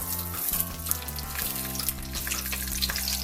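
Palm oil poured and sizzling in a cooking pan, a dense, continuous crackle and hiss that holds steady and close throughout, with no voices.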